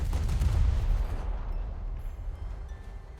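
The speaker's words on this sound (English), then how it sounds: "You should feel at least a slight pinch as the shells pass through your entire ship and probably don't detonate." Naval shells fired at a warship in a video game, a deep booming volley that rolls and fades into a low rumble over a few seconds, with no talking.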